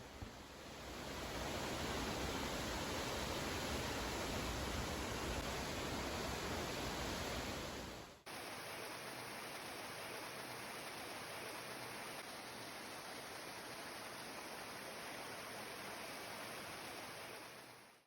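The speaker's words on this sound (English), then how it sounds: "it was also really cool getting to walk behind this waterfall as well" A loud, steady roar of falling water from a waterfall at Silver Falls State Park, Oregon, fills the whole stretch, a broad rushing wash that shifts slightly in tone partway through.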